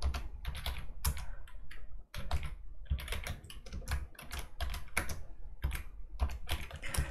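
Rapid keystrokes on a computer keyboard while entering variables in RStudio, close and steady in bursts with one brief pause, no talk.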